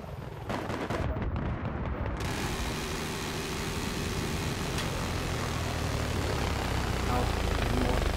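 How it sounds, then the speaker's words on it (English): Dense, loud rotor and engine roar of a helicopter in the video game Battlefield 3, with sharp bursts like gunfire mixed into a noisy battle din. "Shit, helicopter. Helicopter's dangerous."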